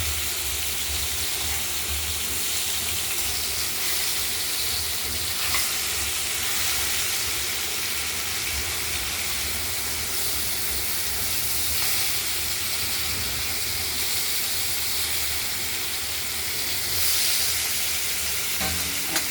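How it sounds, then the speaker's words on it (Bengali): Steady, close sizzling and popping of katla fish pieces frying in hot oil in a pan, a dense crackle that continues evenly throughout, with no speech. "মাছগুলো ভাজা হলে তারপর ফোড়নটা আমরা দেবো"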